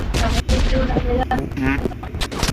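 Gunfire in the mobile shooter game PUBG Mobile Lite, a quick run of shots and impacts during a house fight, mixed with game effects and fairly loud.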